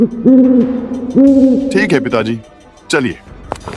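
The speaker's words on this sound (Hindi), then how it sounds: "कभी कभी दूर से उल्लू की आवाज आती" An owl hoots at night along a forest road, two long resonant hoots followed by someone talking over quieter rustling in the dark woods.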